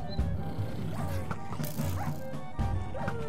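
Several sharp dog barks and yips from a Minecraft UHC video game burst out in quick succession, mixed with mechanical clicking and faint voices in the background.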